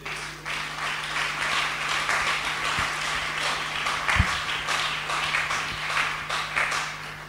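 Church congregation applauding the Lord, sustained crowd clapping spread evenly throughout, with a steady hum beneath and a few louder single claps or knocks standing out.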